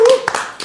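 A few scattered hand claps from a small studio audience welcoming a guest on a Korean talk show, brief and close, with a tone sounding at the start.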